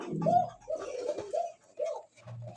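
A pair of pigeons at a wholesale pigeon seller coos in several low, throaty bursts close by, with short pauses between calls.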